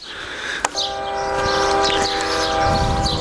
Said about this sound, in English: Well, I hear a train a-coming.